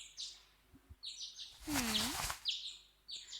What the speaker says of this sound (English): accompanied by the sound of birds chirping